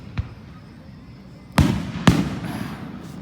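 Fireworks burst during a Fourth of July celebration: a faint thump, then two loud sharp bangs about half a second apart, each followed by a short crackling tail.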